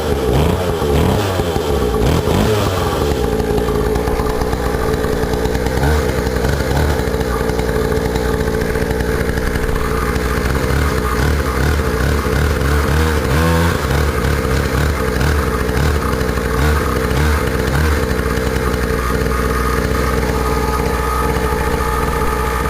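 A kids' four-wheeler ATV's small engine runs loud and close, a buzzy continuous drone with uneven revving, alone without voices.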